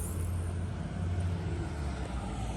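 A Holden Commodore SS-V with a 6.2 litre V8 idles under its open bonnet, giving a deep, steady low rumble at constant volume with no voices.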